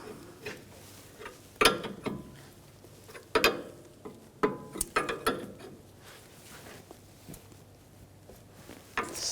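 A wrench ratchets in short, uneven bursts of metallic clicks while a tie rod jam nut is snugged up on a 2011-2018 Volkswagen Jetta, close by with pauses between strokes.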